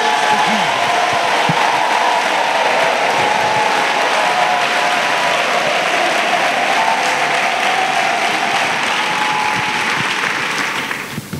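A church congregation applauds and cheers in acclamation during a worship service, a loud, sustained wash of clapping and crowd voices that holds for about ten seconds before fading at the end.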